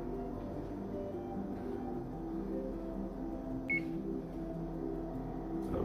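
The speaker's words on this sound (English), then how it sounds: "Oven just beeped." A kitchen oven gives one short electronic beep, faint against a steady low hum, with another brief chirp right at the end.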